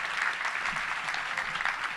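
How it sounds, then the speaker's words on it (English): A club audience gives a big round of applause, a dense, continuous burst of clapping that stays steady and fairly loud throughout. "let's give a big round of applause this year for Rex Nelson"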